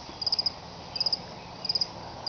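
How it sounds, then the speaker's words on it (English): A tree frog calls in quick trilled pulses, short bursts of four or five repeated every second or so against a quiet night background. "I guess there's a tree frog up there somewhere."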